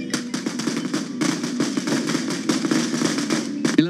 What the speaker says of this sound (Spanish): Cohetes y fuegos artificiales se hicieron presentes en aquel lugar